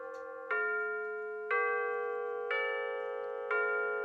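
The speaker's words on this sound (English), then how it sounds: "here is a demonstration of the Westminster Chime on the Highland" Seiko Highland clock (QXM609NRH) sounding the Westminster chime: four rich, ringing bell-like tones struck at even one-second intervals, each sustaining and overlapping the next, close and clear with no talk.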